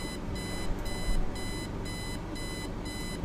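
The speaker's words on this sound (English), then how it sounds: "Turn off alarm clock." An alarm clock in the Kathy Rain point-and-click video game beeps in steady repeated bursts, each a cluster of shrill electronic tones separated by short gaps, playing alone and fairly quiet over a background hiss.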